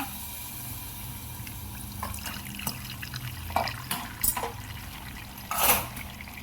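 Water trickles and splashes into a pot of stuffed brinjal being cooked in a home kitchen, with soft steady flowing and a few louder clinks and splashes near the end.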